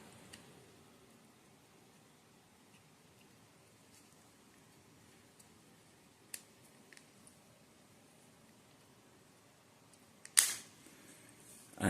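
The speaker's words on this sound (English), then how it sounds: "When you hear the snap, when you push it, that's the time that you will know that the key fob is already closed" A Nissan Murano key fob is pressed back together after a battery change and snaps closed with a single sharp plastic click near the end, after a long quiet stretch with faint handling ticks.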